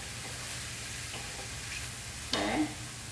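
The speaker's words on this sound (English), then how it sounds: "I'm going to stir that, and I'm going to let that get a little bit brown also" Mushrooms sizzle and fry in a pan as they brown, a steady close crackle with occasional soft scraping from stirring and one louder scrape near the end.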